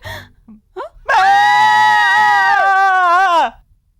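A woman lets out a sustained, high-pitched scream of fright lasting over two seconds, loud and close, wavering near the end, preceded by a few short gasping breaths.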